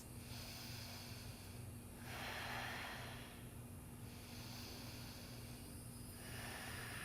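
Slow yoga breathing in sphinx pose: two long, soft breaths of airy hiss, each swelling and fading, close and quiet over a low steady hum, with no talking.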